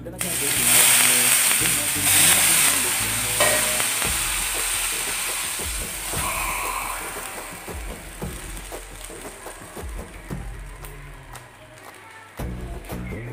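Naan cooks on a hot tawa sprinkled with water, a loud sizzling hiss at first that gradually settles into quieter crackling, with someone speaking over it.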